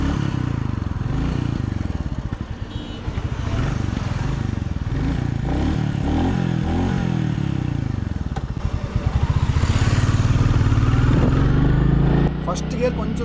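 A 2025 Royal Enfield Bullet 350 motorcycle engine runs close by with a loud, low, rhythmic thump that swells and dips as the revs change, with a brief clatter near the end.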